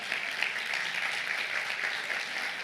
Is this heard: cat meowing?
no